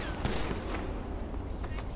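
Gunfire in the video game GTA 5, a dense fusillade of rapid shots cracking continuously at close range, with a voice mixed in underneath.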